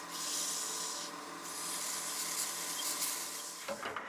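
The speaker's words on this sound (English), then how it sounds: "now that we've sanded that with 400" Close, steady rasping of 400-grit sandpaper against a spinning Blackwood bat house ornament on a lathe, a continuous bright hiss over motor hum that ends in a few soft knocks.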